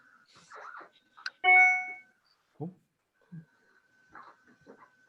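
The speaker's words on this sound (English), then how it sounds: "I think it's just people ringing the doorbell." A short, bright Zoom doorbell notification chime rings once during a video call, clearly louder than the faint voices and small sounds scattered around it.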